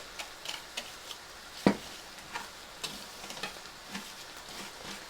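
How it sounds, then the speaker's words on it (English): A spoon or whisk scraping and ticking against a bowl while flour and baking powder are mixed for cornbread, with light, irregular clicks and one sharper knock, close and quiet, with no talking. "just want to get all those dry ingredients mixed together"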